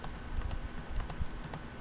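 Rapid, light clicking of keys on a computer keyboard, a quiet irregular patter of key presses close up with no voices.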